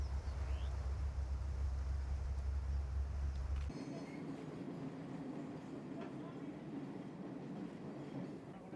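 Classic train running through the African countryside on the Nairobi–Mombasa line, a steady loud rumble of wheels on track that cuts to a quieter rolling carriage interior with faint clatter, a narrator speaking over it.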